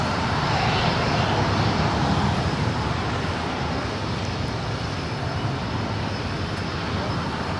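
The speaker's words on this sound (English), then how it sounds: "the 777 making that left-hand turn on to taxiway Lima" An ANA Boeing 777 taxis at LAX and swings left onto taxiway Lima, its engines giving a continuous loud, broadband whine and roar close by. The sound stays steady, with no clear voices.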